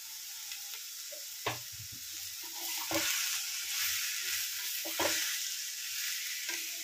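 Cut green beans sautéing with softened onions in a pan, a steady sizzle with several sharp clacks and scrapes as they are stirred, no voices.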